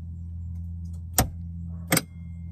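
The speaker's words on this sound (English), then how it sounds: "I want to see if I can turn the keys, listen to see if the contactors switch on" Two sharp mechanical clicks, about three quarters of a second apart, as keys turn in the ignition of a CitiCar electric car and its contactors switch on, heard over a steady low hum with no main batteries fitted.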